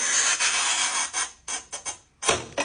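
A manual tile cutter scores a tile with a long rasping pull, followed by several short scraping strokes and a final loud burst, close and without voices.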